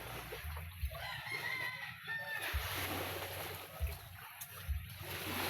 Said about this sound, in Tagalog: ayun yung manok namin na matagal na sa amin